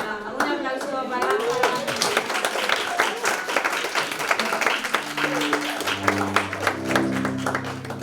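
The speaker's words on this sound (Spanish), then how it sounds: "un aplauso para..." An audience at a children's didactic concert breaks into lively clapping that runs throughout, with voices calling out early on and sustained musical tones entering underneath near the end.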